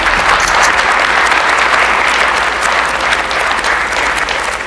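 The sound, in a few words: warm round of applause at ribbon cutting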